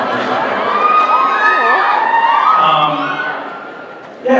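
A loud convention crowd at a Supernatural fan panel cheers, whoops and shouts in a sustained roar that fades slightly before a fresh burst at the end.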